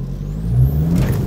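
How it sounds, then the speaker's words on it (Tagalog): A modified car engine revs hard, a steady loud mechanical drone that climbs slightly in pitch and stays close and continuous throughout. "Grabe naman, naka-modified kasing makina nito kaya lakas"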